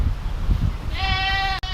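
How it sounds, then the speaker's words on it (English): A single rescued goat on an off-grid homestead gives one loud, drawn-out, wavering bleat near the listener, rising out of low background rumble and lasting most of a second. "we're gonna feed that noisy goat over there"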